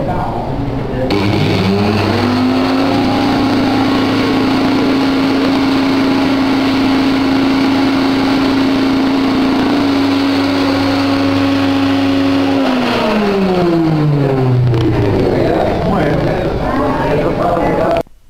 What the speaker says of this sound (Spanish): Si nosotros ahora encendemos el motor